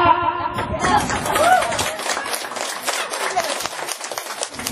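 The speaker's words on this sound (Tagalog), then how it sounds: "Mga kamay ay palakpak." Audience clapping hands together at a birthday celebration, a dense burst of close applause mixed with cheering and excited chatter from several people.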